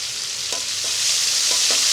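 Cumin seeds and four dried red chillies sizzling loudly in hot oil for a Bengali mas kalai dal, a constant bright hiss with a few soft stirring knocks, no voices.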